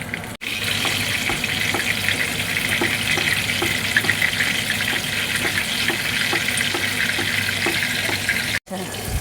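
Battered Lote fish frying in oil on a low flame, a steady, soft, even sizzle with faint crackles and small pops running throughout at moderate distance.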